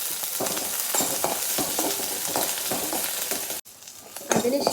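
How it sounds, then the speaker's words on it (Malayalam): Garlic and green chillies frying in a hot pan for a simple Kerala moru curry, a loud continuous sizzle with repeated stirring scrapes, close up, briefly cutting out near the end before the crackle resumes. "വെളുത്തുള്ളി, പച്ചമുളക് എന്നിവ ഇട്ട് മൂപ്പിക്കുക"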